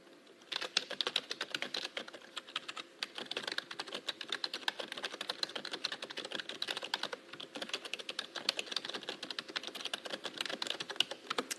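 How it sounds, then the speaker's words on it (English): Rapid clicking keystrokes on a computer keyboard in a TV weather studio, close and continuous with brief pauses between bursts of typing. "just hang tight while I do a quick little typing here"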